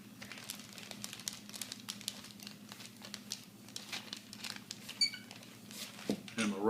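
An old rolling pin rolls dough out over wax paper, giving steady close crinkling and rustling with soft rhythmic pressing and a few sharper crackles.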